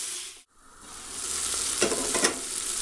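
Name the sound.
garlic and hot chili peppers frying while being stirred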